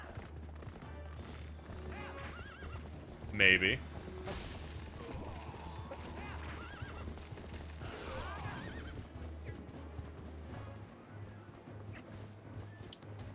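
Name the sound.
horse neighing and hooves in the video game The Legend of Zelda: Twilight Princess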